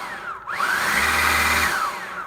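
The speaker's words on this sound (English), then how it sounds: "This is really powerful vacuum here with the other attachments I use to do my car." A Dreametech T10 cordless vacuum cleaner switches up, its motor whining as it spins up to a loud, steady high-pitched drone, then shifting pitch as it winds down near the end.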